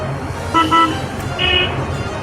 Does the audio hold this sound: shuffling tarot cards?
no